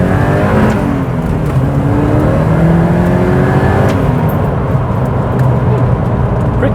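A Porsche 944 Turbo running an aftermarket ECU on a base tune accelerates hard, its engine a loud, steady, close-up drone with rising tones and no gaps.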